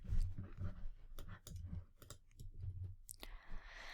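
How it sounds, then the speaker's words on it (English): Fingers slide and tap across a computer keyboard, producing a quick run of soft clicks and rubbing sounds close by, with a brief rustle near the end. "I'm just sliding my finger across the keyboard"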